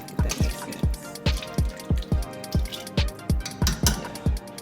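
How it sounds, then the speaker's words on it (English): Water splashes into a cooking pot of meat for yakamein broth in a rapid series of about a dozen evenly spaced, close sloshing plops, each a brief wet burst, with no talk. "Add a little bit more water just because I want this to be lifted"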